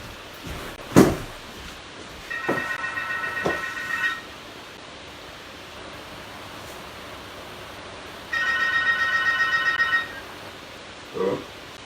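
A telephone rings in two separate electronic bursts, each lasting about two seconds with a pause between them, moderately loud indoors, with a few dull knocks and thuds around the rings.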